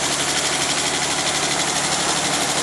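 An engine running slightly rough on old fuel, a steady close idle with a faint uneven pulse and no voices over it.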